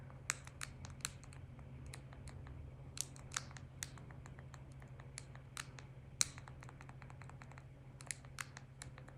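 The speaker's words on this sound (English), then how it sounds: "Dude, I hate typing on this thing." Someone types on a keyboard, irregular quiet key clicks scattered over a low steady hum, close and faint in a quiet room with no voices.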